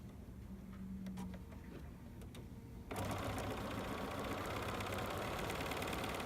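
A sewing machine stitches pieced hexagon-star quilt rows together, a steady close mechanical whir with light ticking; it runs quietly at first, then gets louder and busier about halfway through, with no talking.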